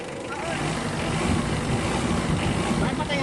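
The engine of a Mitsubishi Adventure idles with a slight misfire, a dense steady rumbling drone at close range that sounds slightly rough and uneven throughout.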